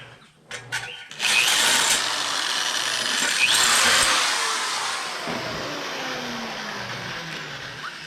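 A power drill enlarges holes for rivnuts in metal, starting with a few short bursts, then a sustained high-pitched whine that slowly winds down, close and alone without talk.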